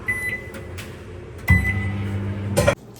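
A microwave oven hums steadily for a short stretch as food heats in a home kitchen, with a faint electrical drone, a click as it starts, and a brief clatter near the end.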